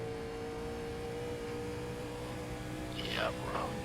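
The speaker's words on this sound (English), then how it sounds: "wrong gear for the engine" A NASCAR Legends race car engine in the iRacing sim drones at a steady high pitch in the wrong gear at Pocono, a constant near whine with a short rise and fall at the end, while a commentator talks over it.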